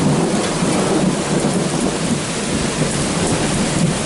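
Heavy rain pours steadily in a southeastern storm, a dense continuous roar with low rumbling thunder running beneath it throughout, loud and close with no talking.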